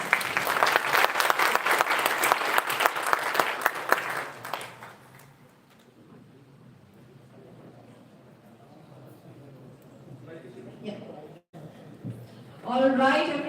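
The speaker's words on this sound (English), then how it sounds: "I think all the mentors deserve a big round of applause." Loud, dense audience applause for mentors at an international conference fills the first few seconds, then fades into room murmur before a speaker's voice returns.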